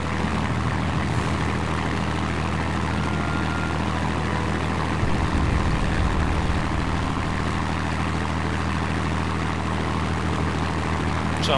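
A Spitfire Mk I propeller engine drones continuously during a steady climb in a World of Warplanes flight game, a loud, even aircraft roar with no talk over it.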